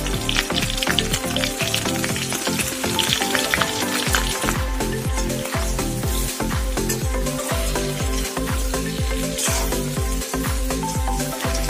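Mutton pieces sizzle steadily in a pan with roasted masala for an Assamese restaurant-style mutton curry, a loud, dense crackle with rhythmic scraping stirs throughout.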